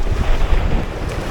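Wind and choppy water surround an Aquaglide Deschutes 110 inflatable kayak with an EVA floor out on open water, giving steady, loud, rumbling wind noise over splashing waves, with no voices.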